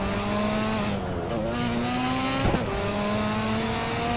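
Race cars roar through a lap of the Hot Wheels Universe Zero video game, a loud steady engine drone with pitch shifting up and down and a brief scrape near the middle, no talk.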